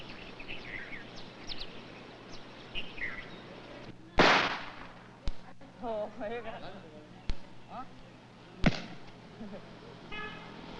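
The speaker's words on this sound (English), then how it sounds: "The Buddhist New Year begins in the middle of April, and we celebrate with firecrackers." Firecrackers bursting at a Buddhist New Year celebration in Sri Lanka: several sharp, separate cracks and bangs spaced seconds apart, rising over a busy outdoor background with chirping birds and murmuring voices.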